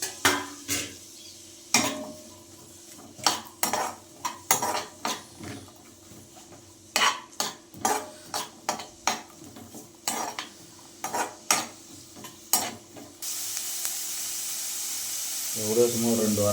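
Brain frying with onions and curry leaves in a pan: a utensil scrapes and clinks against the pan in irregular bursts. A steady sizzle and hiss takes over toward the end.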